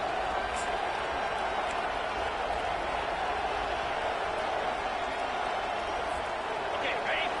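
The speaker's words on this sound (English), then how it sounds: "It is getting loud as this crowd tries to help its defense." A dense, constant roar of a large stadium crowd cheering at a football game while the home defense is on the field, loud and unbroken throughout with no pauses.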